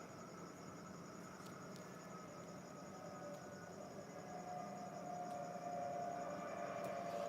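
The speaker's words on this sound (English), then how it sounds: "trains are noisy tonight, aren't they?" A distant train rumbles on through the night, a low steady drone with a faint tonal whine that swells slightly louder toward the end, with no voices over it.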